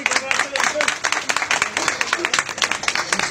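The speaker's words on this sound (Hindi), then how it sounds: "जोरदार तालियां हो जाए" An audience at a Modicare team gathering bursts into dense, sustained applause, many hands clapping together at steady volume throughout, with voices mixed in underneath.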